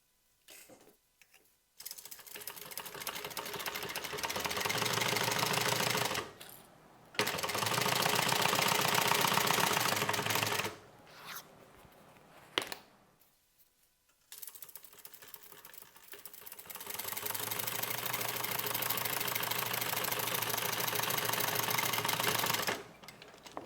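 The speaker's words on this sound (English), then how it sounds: "I'm going to top stitch on my upper lining" A sewing machine top-stitches the upper lining of a tote bag. It hums and clatters in long steady runs of several seconds each, with short quiet pauses between, and it is loud and close.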